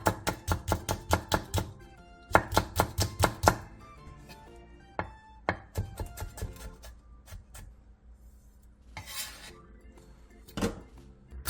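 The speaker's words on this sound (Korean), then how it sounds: "청양고추 1개와 청양 홍고추 1개에 길게 십자 모양으로 칼집을 넣은 뒤 쫑쫑 썰어주세요" A knife chops green and red cheongyang chili peppers, already slit lengthwise, on a board. Crisp close chops come in quick rhythmic bursts with pauses between them, and no one talks.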